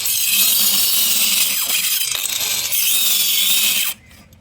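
A handheld cutter machine slices through wood for a door frame, its loud, steady high-pitched whine running for about four seconds before cutting off abruptly.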